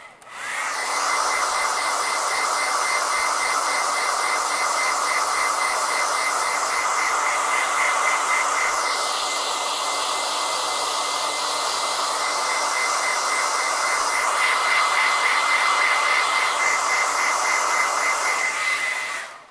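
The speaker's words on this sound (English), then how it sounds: "And then I'm going to blow dry again." A blow dryer runs steadily and loud to dry chalk paste on a transfer, a constant whooshing roar with a shift in pitch midway as the airflow changes, no talking.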